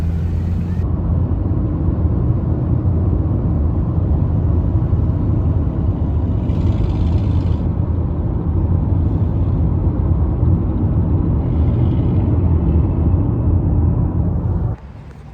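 A 1994 Ford Mustang with suspension problems on the road, heard as a loud steady engine and road rumble from inside the car that holds for the whole stretch, with no voices.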